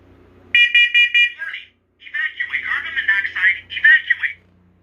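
A First Alert smoke alarm from a bridge unit system test beeps in a short burst of rapid tones, then gives electronic warbling and synthetic voice-like alert sounds, loud and close.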